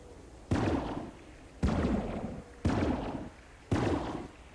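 Laser rifle shots fired in the video game Cataclysm: Dark Days Ahead, four loud, sharp blasts about a second apart, each with a long, slowly fading tail.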